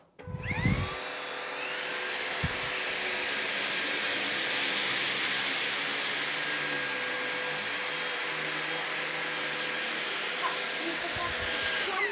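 A Levoit LVAC200 anti-tangle vacuum cleaner runs in turbo mode with a loud, steady whine and a rushing airflow. The motor swells slightly partway through and stays close and continuous, with a few bumps and knocks at the start and end.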